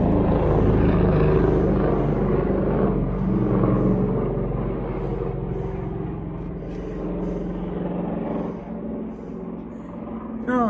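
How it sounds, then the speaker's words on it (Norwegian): A helicopter flies off into the distance, its steady rotor rumble and drone fading gradually over about ten seconds in an outdoor setting. "der forsvant helikopteret"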